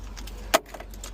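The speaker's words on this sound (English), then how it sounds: "Dropping keys, that's never good." A single brief metallic clatter as car keys hit the ground beside a Vauxhall Astra, with quiet background before and after.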